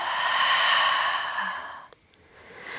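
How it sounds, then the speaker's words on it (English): A slow, audible open-mouth exhale during a gentle third-trimester prenatal yoga session, soft and breathy, tapering off into near silence. "And open mouth, exhale, side out, release."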